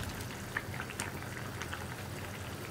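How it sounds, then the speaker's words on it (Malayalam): Masala gravy for paneer curry bubbling steadily in a pan, a soft continuous simmer with faint scattered pops and no voices. "അപ്പോൾ നമ്മുടെ ഗ്രേവി തിളയ്ക്കാൻ തുടങ്ങിയിട്ട് 2 മിനിറ്റ് ആയി."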